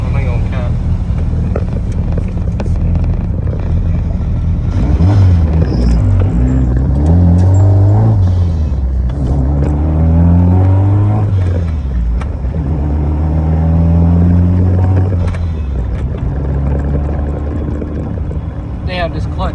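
A car rumbles steadily while driving after a fuel leak repair, its engine rising and falling in pitch through gear changes, loud and close inside the cabin with a voice talking over it.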